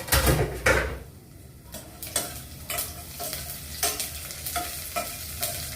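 Onion and garlic frying in a pan for mung bean and longganisa, a steady sizzle under repeated scraping and stirring strokes of a utensil against the pan, close and fairly loud, no speech.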